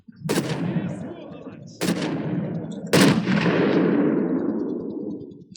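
Three sharp, heavy gunshot blasts in a shooter game, each with a long rolling echo tail, the last one sustaining a loud booming decay.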